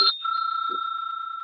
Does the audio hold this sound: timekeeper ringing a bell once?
yes